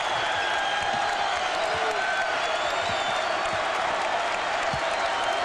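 Basketball arena crowd at the Bradley Center during a Marquette vs Cincinnati game, on its feet with dense, continuous applause and cheering roaring throughout, a commentator's voice faintly beneath.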